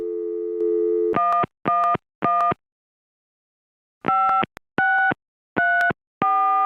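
Telephone busy signal from the Gabriel Knight: Sins of the Father adventure game, a dial tone giving way to repeated short beeping bursts in an even rhythm with silent gaps, clear and close.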